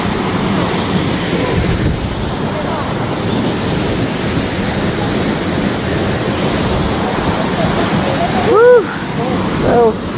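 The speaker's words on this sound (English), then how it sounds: "Beautiful waterfall." A waterfall at the end of a hiking trail sends up a loud, steady, broadband roar of rushing water throughout, and short bursts of voices rise over it near the end.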